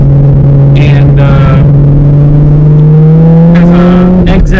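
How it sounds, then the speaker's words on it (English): A tuned car engine with Tomei outlet pipes, a Mines front pipe and a Tomei Titanium Extreme full exhaust, running on E85, holds a loud, steady low drone that climbs slowly in pitch, with someone talking over it. "It has Tomei outlet pipes with a Mines front pipe going to the Tomei Titanium Extreme full exhaust"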